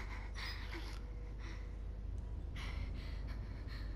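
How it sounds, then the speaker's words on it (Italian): Heavy, ragged panting in Resident Evil 7 comes as a string of close, breathy gasps and snorts, moderately quiet, with no talking over it. "Cos'è questo ansimare?"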